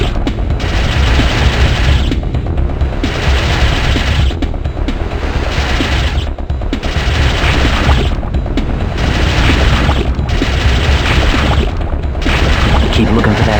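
Gunfire in the PC game Ripper comes as sustained bursts of shooting, loud and dense, broken by brief gaps roughly every two seconds over a constant mechanical roar.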